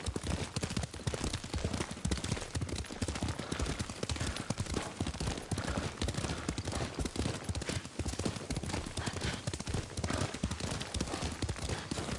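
Horse hooves galloping in the Ghost of Tsushima video game, a steady rapid clip-clop running throughout, loud and close, with no talk over it.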